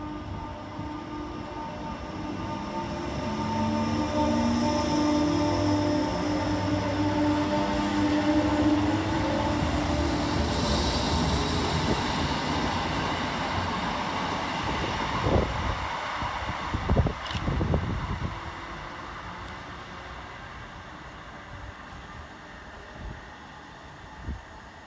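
A Northern class 319 electric train, unit 319386, rolls through Patricroft station on a Liverpool Lime Street to Crewe service, a broad rumble swelling and fading over about twenty seconds with rail clatter near the end and no talk.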